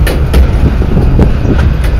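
A train rolls over the rails out of a rail yard, with loud close rumbling and several sharp clickety-clack wheel beats spaced through two seconds.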